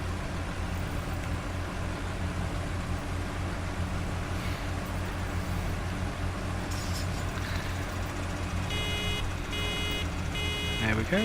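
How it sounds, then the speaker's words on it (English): In Farming Simulator 2013, a harvester's nearly-full grain tank alarm sounds as a series of repeated electronic beeps near the end, over a loud, steady engine drone inside the enclosed cab. "there's the alarm to tell us that we're getting nearly full"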